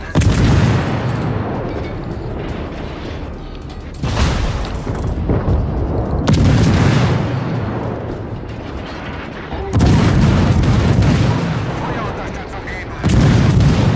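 Warship main guns in the naval game World of Warships boom out five times at uneven intervals, each loud, close blast decaying into a rumbling tail before the next.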